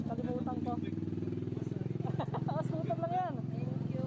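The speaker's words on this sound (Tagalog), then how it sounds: "Scooter lang yan." A scooter engine hums steadily close by, on a ride toward UCM, San Mateo, Rizal, with harmonic engine tones running throughout while people talk over it.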